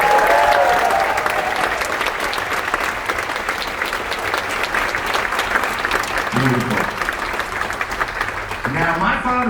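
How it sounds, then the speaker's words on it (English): A large crowd aboard the cruise ship Voyager of the Seas applauds loudly and steadily for World War II veterans, the clapping sustained throughout, with a voice breaking in near the end. "give a loud round of applause for all of our World War II veterans."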